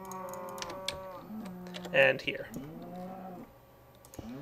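Cows low in Minecraft while being milked; drawn-out, pitch-bending moos recur across the clip, with keyboard clicks and a brief spoken comment.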